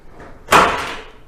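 A wooden apex garden shed's double door swinging open, a single close thud and scrape with a short fading rumble.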